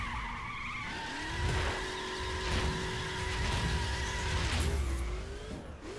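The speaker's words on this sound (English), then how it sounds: "And I can brake super late with this car, it's incredible" A light car in The Crew racing game brakes very late, its tires squealing in long sliding tones over a steady engine drone, with no talking.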